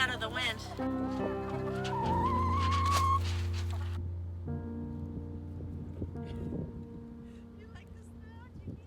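Ducks huddle inside a duck house on a windy winter farm, soft quacking and clucking calls against wind noise while a person talks close by.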